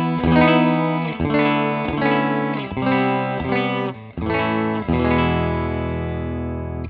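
A clean Fender American Performer Telecaster is heard through a Fender Hot Rod Deluxe Limited Edition amp with a Cannabis Rex speaker. Full, ringing chords are struck roughly every 0.7 seconds, and the final chord is left to sustain, with no talking.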